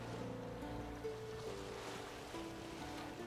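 Boat moving across a lake in The Witcher 3, with a steady wash of water and waves, a low engine-like hum and faint shifting tones underneath, continuous and moderately close.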